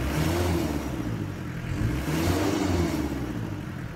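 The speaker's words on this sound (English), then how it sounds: "Let's rev the engine." A Mitsubishi 4D56 diesel engine with a white smoke problem is revved after a fuel injection pump adjustment, giving a steady, loud, close mechanical drone that rises and swells slightly.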